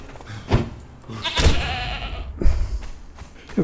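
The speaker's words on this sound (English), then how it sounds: "Now what's that? That's a goat." A goat bleats several times at close range, with short wavering calls spaced through a few seconds of farmyard quiet.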